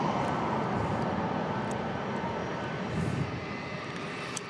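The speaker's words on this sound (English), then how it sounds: "they're going to send us a Embraer Praetor taking off for FlexJet" Embraer Praetor business jet operated by FlexJet taking off at San Diego International Airport, a steady broadband engine roar that eases slightly toward the end, heard from a distance with faint clicks and no voices.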